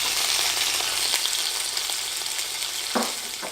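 Garlic frying in three tablespoons of olive oil in a 12-inch pan over medium-high heat, giving a steady close sizzle and crackle throughout, with brief stirring scrapes near the end.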